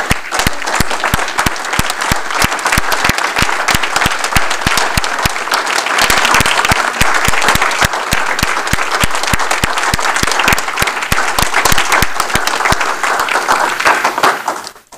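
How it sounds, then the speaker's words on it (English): An audience at a school board meeting gives a sustained round of applause for visiting Lowe's team members, a dense, even clatter of many hands lasting the whole stretch before cutting off at the end. "Let's uh, give them a round of applause for their support of Rockford Public Schools."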